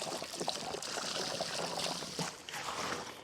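Water pours and trickles steadily at a construction dig site, a broad splashing wash that carries on for a few seconds without a break.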